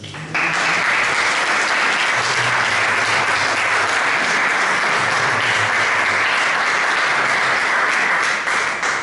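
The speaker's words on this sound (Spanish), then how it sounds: "También hay un fuerte aplauso a Jesús." Loud, sustained audience applause fills the whole stretch, dense and even, with a low murmur of voices beneath.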